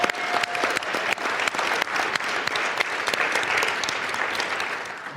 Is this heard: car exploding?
no